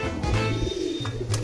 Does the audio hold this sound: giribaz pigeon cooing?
yes